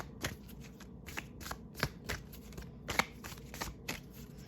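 Tarot cards are shuffled up close, giving a run of soft, irregular riffling snaps and flicks at moderate volume with no speech.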